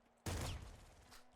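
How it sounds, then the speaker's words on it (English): Shotgun fire in the top-down shooter Nuclear Throne: a single loud, punchy blast that cuts in abruptly and trails off in a short rattling decay. "There you can see shotgun shells kind of just goes ape shit."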